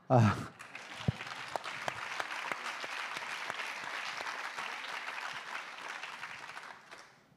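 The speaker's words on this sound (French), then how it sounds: "On peut l'applaudir." Audience at a national congress applauding a cartoonist, a sustained wash of many hands clapping after a brief voice at the start, steady and moderately distant, fading out at the end.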